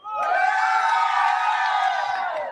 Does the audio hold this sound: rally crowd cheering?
yes